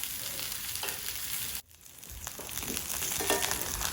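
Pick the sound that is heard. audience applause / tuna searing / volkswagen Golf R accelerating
tuna searing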